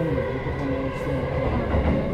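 A Tokyo subway train on a through service to the JR Joban Line rumbles along steadily with low droning motor hum and rolling wheel noise, continuous and fairly close.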